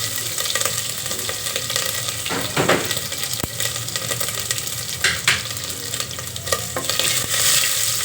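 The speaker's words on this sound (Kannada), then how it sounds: "ಎಣ್ಣೆ ಕಾಯಿತು ನೋಡಿ ಸಾಸಿವೆ ಆಮೇಲೆ ಫ್ರೆಂಡ್ಸ್ ಜೀರಿಗೆ ಈರುಳ್ಳಿ ಕರ್ದಿರ್ತೀನಿ" Mustard seeds, cumin and onion frying in hot oil, with a loud, dense sizzle and crackle, occasional sharp ticks and scraping stirs, close and busy throughout with no talking.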